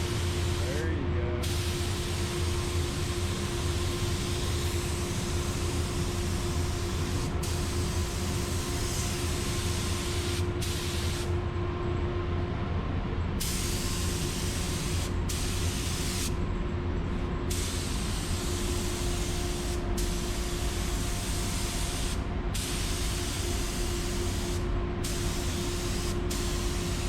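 A spray gun lays primer on Grand Wagoneer door jambs with a loud, continuous hiss that runs for nearly half a minute, broken by a few brief trigger releases. A person talks over the spraying now and then.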